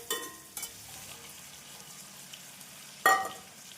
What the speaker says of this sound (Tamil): வெங்காயம் 1 நிமிடம் வதங்கிய பின் நாம் நறுக்கிய பூண்டு கருவேப்பிலை சேர்த்து விடலாம்.